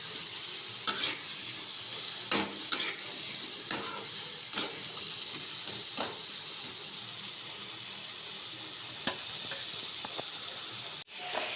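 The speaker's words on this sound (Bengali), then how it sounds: "ভালো করে আলুগুলোকে একটু ভেজে নিতে হবে। গ্যাসটা মিডিয়াম আঁচে রেখে আমি ভাজলাম।" Potatoes fry in a pan over a medium gas flame, giving a soft continuous sizzle with scattered sharp clicks and scrapes of stirring. The sound is moderately close, and nobody speaks.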